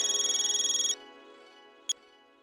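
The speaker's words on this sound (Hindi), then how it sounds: "गणपत भाऊ को फोन करके ऑर्डर दे देती हूँ" Electronic telephone ring on an outgoing call, a short pulsing tone lasting about a second, then a faint brief beep after a pause, no talking.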